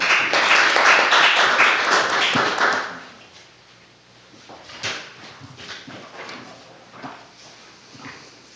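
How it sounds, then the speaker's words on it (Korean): At a national assembly policy forum on marine leisure tourism, a room of attendees breaks into applause for about three seconds, then it quickly dies away into faint shuffling and a few stray taps. "여러분 큰 박수로 환영해 주십시오."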